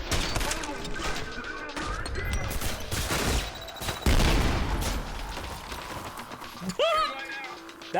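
Grenades fired from a launcher in the shooter Trepang2, a dense stretch of rapid gunfire and heavy blasts through most of the clip, with a voice speaking near the end.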